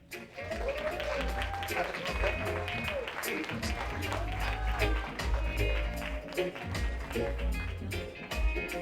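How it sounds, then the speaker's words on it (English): Applause from an awards ceremony audience at the Best of Jamaica Awards 2025, steady and sustained over background music, with a few voices rising through the crowd noise. "Keep the applause going"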